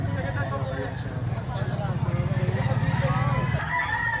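Roosters crow amid the bustle of a chicken auction in the Philippines, their calls mixed with clucking and a pulsing mechanical hum while people talk nearby.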